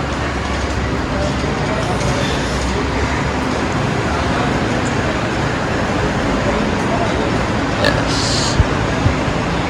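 Busy road traffic in Sri Lanka, a steady broadband roar of passing vehicles with a faint horn-like tone near the end, continuous and fairly loud throughout.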